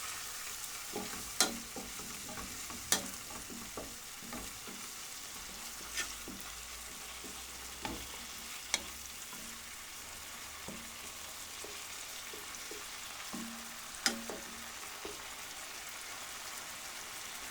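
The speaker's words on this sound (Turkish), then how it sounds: "Devamlı karıştırıyoruz bu şekilde. Kırmızı et kalmayacak şekilde." Minced meat fries in a pan with a soft continuous sizzle while a utensil stirs it, making regular scraping taps every second or two, close and fairly quiet, with no talking.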